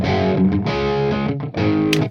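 Harsh, fizzy distorted electric guitar played straight through an amplifier head with no speaker cabinet, sounding sharp and shrill as sustained chords ring loudly with brief gaps between strums.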